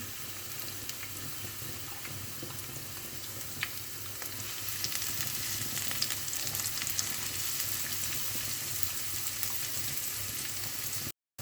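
A large chopped onion frying in oil in a pan while preparing spicy pan-fried prawns, a steady close sizzle with occasional soft ticks and pops, constant in level until it cuts off abruptly, and no voices.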